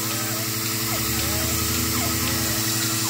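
A milking machine draws milk through its hose from a cow, giving a steady mechanical pumping drone with a regular pulsing rhythm under faint squeaks and hiss, close and continuous.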